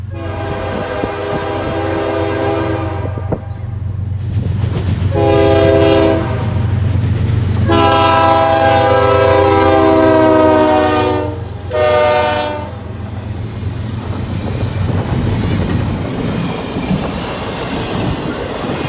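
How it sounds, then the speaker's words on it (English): A CN freight train led by a GE locomotive with an Illinois Central Dash 9 second passes close by, sounding several long loud horn blasts over a steady engine rumble, then wheel noise as cars roll past. "The train was a Jivo leading and an Illinois Central / CN Dash 9 in second."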